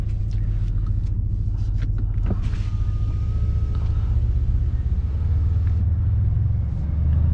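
Mercedes-AMG C63 S sedan from 2020 with a 4.0L V8 in sport plus mode, giving a steady, loud, deep engine rumble that holds throughout with no break.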